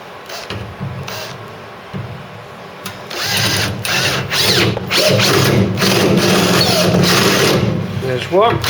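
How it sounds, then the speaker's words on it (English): A high-pitched spot weld drill whirs steadily into the metal of a Mk3 Ford Cortina, grinding continuously for several seconds with a low engine-like hum underneath. "just get my spot weld drill out and we'll send some holes through those"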